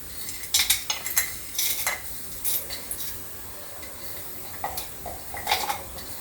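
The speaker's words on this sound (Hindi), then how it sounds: "ये सारे खड़े मसाले हैं तो इसमें डाल दे रहे हैं।" Whole spices go into a hot pressure cooker while chhole is being made, followed by stirring with a metal utensil: light clinks and scrapes in uneven bursts, close by, with no talking.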